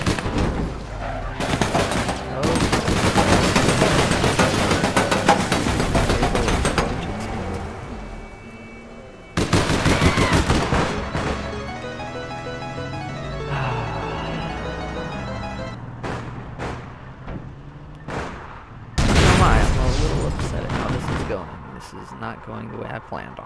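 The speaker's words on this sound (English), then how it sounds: "Oh, they're already shooting." Gunfire and explosive blasts in the online shooter APB Reloaded come in dense, loud bursts and stretches of rapid shots. Quieter gaps fall between them, and a voice talks over parts of it.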